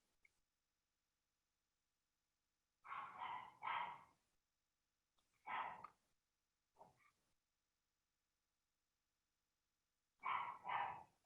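A dog shut in a bedroom barks in short angry bursts, a pair of barks, then a single bark, a small yip, and another double bark, with quiet pauses between them. The barking sounds slightly muffled and moderately distant.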